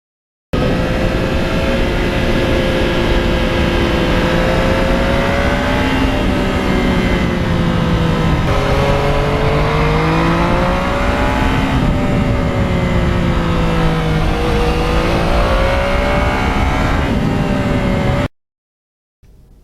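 Riding aboard a 2020 Yamaha MT-09 motorcycle fitted with a quiet exhaust, a steady droning engine tone rising and falling gently with throttle changes under constant wind rush, loud and continuous, then cutting off abruptly near the end.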